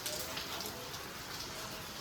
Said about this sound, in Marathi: चांगला पाऊस चालू आहे.